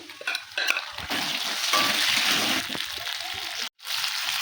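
Ginger, cumin and chili paste go into a pan of potatoes already fried light golden, setting off a loud, steady sizzle with a few spatula clatters at the start and a brief dropout near the end.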